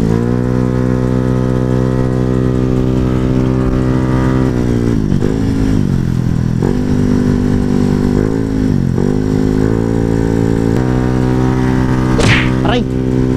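A Yamaha R15 motorcycle climbing an uphill mountain road, its engine droning loud and steady up close with pitch dips and rises through gear shifts, and a rider's voice faintly underneath.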